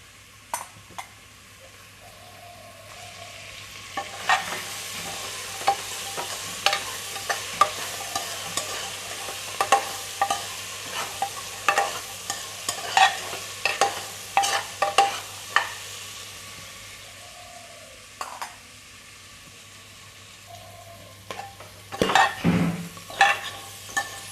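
Pea ghugni masala with salt, Kashmiri chilli and turmeric frying in a pan, stirred with a spoon that scrapes and clinks in irregular bursts over a steady low sizzle, close up and with no talking.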